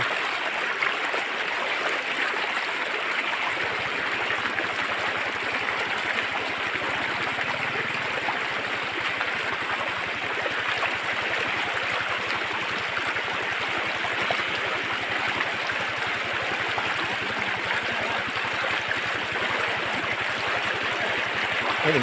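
Seasonal floodwater rushes steadily and continuously, a broad even roar with no pauses and no voices.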